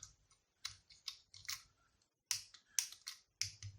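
Xbox controller buttons click while the spongy controller is being repaired: sharp, close, irregular taps arriving in small bursts, with short quiet gaps between them.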